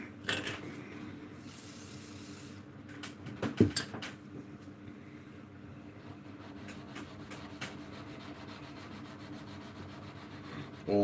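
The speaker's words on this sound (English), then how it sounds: "All the hand sanding." Wood is sanded by hand with steady, soft rubbing strokes that run continuously, with a few louder scrapes and knocks partway through and no voices.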